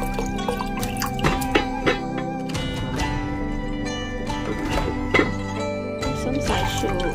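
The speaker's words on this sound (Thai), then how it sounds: "เดี๋ยวเราจะมาทำน้ำดองกระเทียมนะคะใส่น้ำเปล่าลงไปแล้วก็น้ำกระเทียม" Plain water is poured into a garlic pickling brine in a home kitchen, irregular splashes and drips over a steady background hum, with scattered clinks and rattles of containers.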